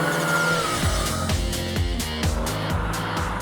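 Raspy exhaust of a 2019 Mini John Cooper Works under way, a steady loud engine drone with rhythmic pulsing as the car is driven hard, heard up close and continuous throughout with no talk over it.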